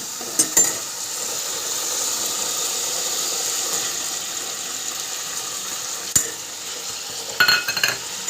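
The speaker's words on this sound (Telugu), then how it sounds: "బాగా ఫ్రై అయిన తర్వాత మనం ముందుగా ప్రిపేర్ చేసుకున్న అల్లం వెల్లుల్లి పేస్ట్ అనేది వేసుకుందాం" Ginger garlic paste sizzles steadily as it fries in a hot pan, a continuous bright crackle, with a few stirring scrapes near the start and end and no talking.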